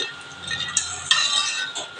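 A watermelon and cornflour mixture for homemade ice lollies is stirred in a pot on the stove, with a spoon scraping and clinking against the metal in a few quick strokes, close and fairly quiet.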